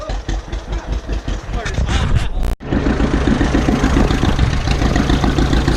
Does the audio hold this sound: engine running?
yes